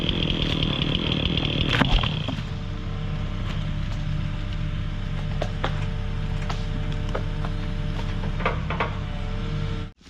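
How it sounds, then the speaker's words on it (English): A freshly sharpened chainsaw cuts through a big tree being felled for a new house site, running loud and steady at full throttle for about ten seconds, taking out big chips, then stopping abruptly. "I sharpened my chain just a few minutes ago, and I'm taking out some big chips with it"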